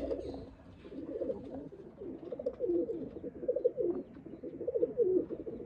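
Sialkoti pigeons coo in a soft, continuous rolling murmur, several birds overlapping close by, with no talking.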